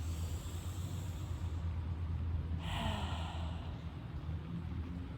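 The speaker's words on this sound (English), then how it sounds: "Filling up completely and exhaling completely." A deep, complete exhale during a yoga reset session: a soft, steady breath that swells into a fuller rush of air midway, then fades, close and alone against low room hiss.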